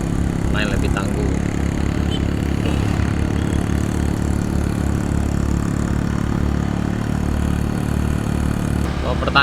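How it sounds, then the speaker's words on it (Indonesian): Old and new motorcycles labour steadily uphill on a busy holiday road. A dense, continuous mid-pitched engine drone stays loud and close throughout, with faint voices under the noise. "Ini antara motor lama dengan motor baru nanjak sana"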